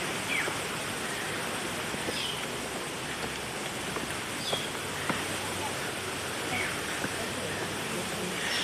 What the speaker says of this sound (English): Beautiful waterfall over here to the right.